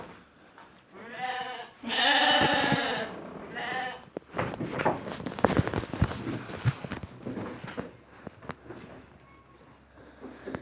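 Several sheep bleat loudly and repeatedly nearby in Reşadiye, Tokat, Turkey, their wavering cries overlapping amid rustling, shuffling and clattering movement from the herd.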